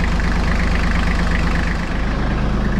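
Iseki TLE3400 compact tractor engine idling steadily after an oil and filter change, a continuous low, even rumble with a regular pulsing beat and no voices.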